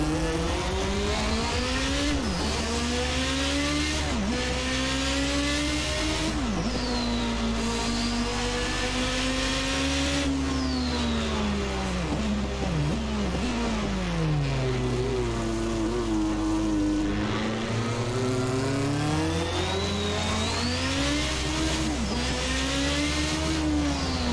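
Toleman T184 Formula One turbo car in Assetto Corsa, its engine revving hard and continuously, with rising and falling pitch sweeps as it accelerates and shifts, plus turbo whine, loud and close throughout, on a wet track.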